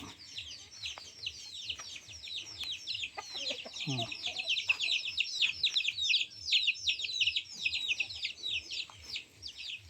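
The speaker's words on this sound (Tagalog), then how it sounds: "May mga manok din dito. Mga French manok." Chickens of a French breed on a farm in Palawan give repeated clucks and calls under a dense bed of high chirping birds, with a few brief voices nearby.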